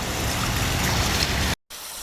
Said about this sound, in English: Beautiful sounds of a little water feature here.